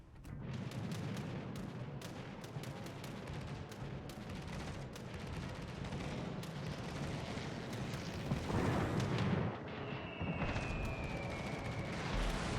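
Bombs slam into the cruiser Atlanta during a naval battle in World of Warships Legends, a dense, continuous booming rumble with a heavier burst of blasts near the end.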